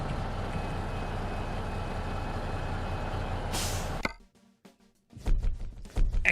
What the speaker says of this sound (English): Let's disconnect the trailer.